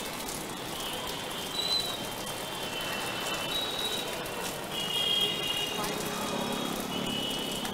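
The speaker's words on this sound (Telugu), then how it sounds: "హైదరాబాద్ వ్యాప్తంగా కూడా అన్ని ప్రాంతాల్లో వర్షం కురుస్తున్న పరిస్థితి" Heavy rain falls across Hyderabad, a steady dense hiss of drops hitting surfaces, close and continuous, with faint tones and passing traffic noise beneath.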